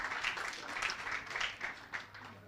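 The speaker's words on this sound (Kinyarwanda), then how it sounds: "Nuko mubaha amashyi." An audience claps for a child receiving an award at a Rwandan school exam prize ceremony, a soft steady patter of applause with a few louder swells, heard from a distance.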